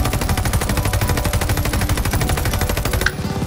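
Rapid, sustained automatic rifle fire from Call of Duty: Vanguard, a continuous loud rattle of shots with no pause, ending abruptly near the close.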